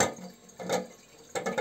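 Water rushing into a toilet cistern as the tank refills, swelling in short bursts of gushing flow, moderately close with no voices.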